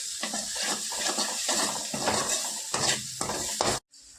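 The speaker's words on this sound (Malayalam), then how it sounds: "ഇത് നല്ലോണം മിക്സ് ചെയ്യാം." Egg thoran mixture with chilli powder stirred in a pan, a spoon scraping and clinking against the metal in a steady rhythm with a faint sizzle beneath, close and alone, ending in abrupt silence.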